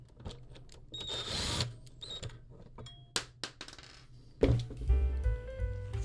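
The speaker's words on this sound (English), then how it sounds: "Time to undo some screws on the monitor." Metal screws being undone on an LG monitor with a tool, small clicks and ticks, brief whirring bursts and light rattling of parts, close and fairly quiet in an otherwise still room.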